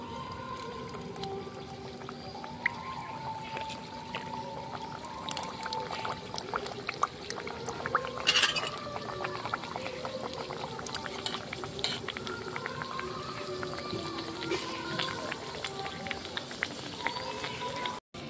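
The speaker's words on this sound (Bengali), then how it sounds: "তেলটা গরম হয়ে গেছে। এবার নিমকিগুলো আমি একটা একটা করে তেলেতে ছেড়ে দেবো।" Nimki dough pieces frying in hot oil, a continuous soft bubbling sizzle with crackling pops, fairly quiet and steady throughout, with a brief louder clatter near the middle.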